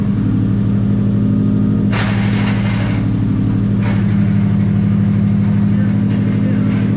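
A Subaru WRX engine idles steadily and loudly throughout, a constant low hum with brief higher bursts around two and four seconds, in a garage setting during drivetrain diagnosis with the rear wheels spinning.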